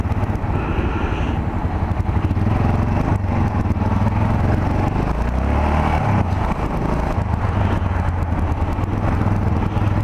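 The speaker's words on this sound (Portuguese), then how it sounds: "a melhor moto que existe para se andar no corredor" A Yamaha XT660R motorcycle engine runs steadily up close, with a continuous rumble and rising and falling revs as it rides between lanes through traffic noise.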